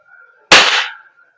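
One sharp, loud crack from a WE Glock 35 Force Series T7 airsoft gas blowback pistol firing once, close by, with a quick decaying tail in a quiet room.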